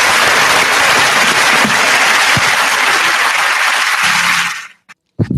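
Radio show studio audience applauding loudly and steadily, the clapping tapering off and cutting to near silence at the end, followed by a brief sound.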